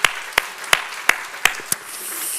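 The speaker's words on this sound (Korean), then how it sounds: "함께 우리 잠깐 자리에서 일어나시면 우리 환영의 박수" A Sunday church congregation claps in welcome: six sharp, evenly spaced claps in a steady beat, then a soft fading murmur.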